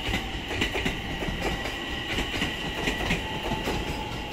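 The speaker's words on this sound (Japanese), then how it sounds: "伊東崎行き、普通列車。" A Kure Line local train on single track near Kure Station: steady rolling rumble with rhythmic clickety-clack of wheels over rail joints and faint squeal, loud and close throughout, no voices.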